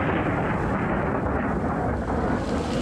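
Heavy rain in a thunderstorm in the wilderness, a dense, loud, continuous broadband roar with low rumbling and no breaks.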